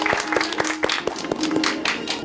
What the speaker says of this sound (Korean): 유한나 대표님을 큰 박수로 맞이해드립니다